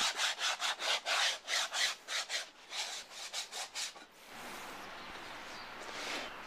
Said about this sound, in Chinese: 并且用砂纸把木板都稍微打磨了圆滑一点，这样不扎手。